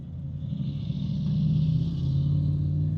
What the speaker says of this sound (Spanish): Es una aceleración respetable, como por ejemplo ahora.